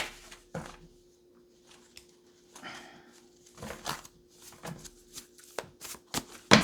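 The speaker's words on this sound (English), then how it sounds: "Let's give it a good shuffle." Cards riffled and shuffled in a few quick bursts, soft flutters and taps separated by short quiet gaps, with a steady faint hum behind.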